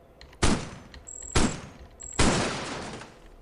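Three sharp blasts of weapon fire from a light cannon or spread laser in the robot roguelike Cogmind, each a loud crack with a long decaying tail, spaced about a second apart, with short electronic tones between them, breaking open a wall or secret door.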